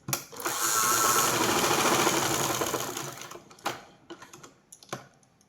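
A sewing machine stitches fabric for a coat-collar kurti in one fast, loud burst lasting about three seconds, followed by scattered clicks and short taps as the work is adjusted.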